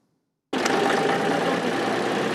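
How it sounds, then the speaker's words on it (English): A village tractor engine in Bezvodne, Ukraine, used for hauling tourists through the forest, starts abruptly after a brief silence and runs at a steady, loud, even idle with a dense mechanical chatter. "This is the tractor residents of the Bezvodne village used to drive the tourists through the local forests."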